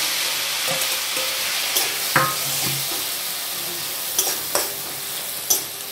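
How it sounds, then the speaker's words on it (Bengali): Grated onion fries in oil with whole garam masala in a pan, giving a steady sizzle broken by a few sharp stirring scrapes and clinks, close and alone with no talking. "পেঁয়াজটা একটু ভাজা ভাজা হোক।"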